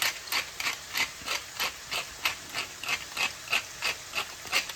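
A hand-cranked pepper grinder cracks black pepper in a steady run of about a dozen rhythmic gritty grinding strokes, close and clear with no talking.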